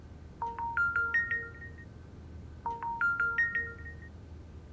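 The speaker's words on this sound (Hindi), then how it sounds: "आ गया माल की डिलीवरी की खुशखबरी का फोन" A telephone rings in an indoor domestic scene: two clear bursts of a rising electronic ringtone trill, each a quick run of stepped beeps, separated by a short pause, over a low steady background hum.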